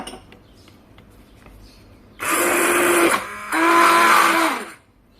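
An electric mixer whips melted oils, stearic acid, wax and water for a cream base, starting abruptly with a loud whirring buzz, dipping briefly, then running again before cutting off, close to the mic.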